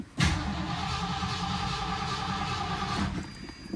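A 1979 Ford Thunderbird engine cranks on a jump box, a steady, loud, continuous churning drone lasting several seconds up close, then cutting off without catching.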